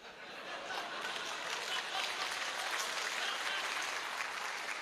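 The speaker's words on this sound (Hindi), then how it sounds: "इस वाली बात पे ताली ज्यादा बजी" An audience at a speech claps steadily, a dense and even wash of applause from many hands that holds throughout at moderate distance, with faint crowd murmur underneath.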